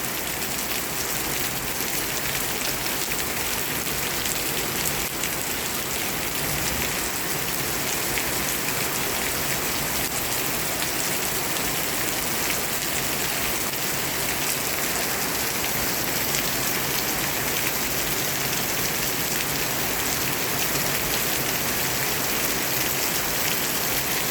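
Steady, dense rainfall hisses continuously on surfaces, an even wash of drops with no breaks and no voices.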